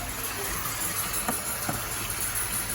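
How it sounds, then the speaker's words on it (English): A kitchen tap runs in a steady hiss of flowing water, constant and moderately loud, with a couple of faint clinks underneath. "I need to turn my water off."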